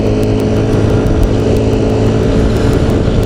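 A motorcycle pulling hard in top gear toward 60 miles an hour, heard as a loud, continuous engine drone mixed with heavy wind rush on an on-board mic, steady throughout without voices.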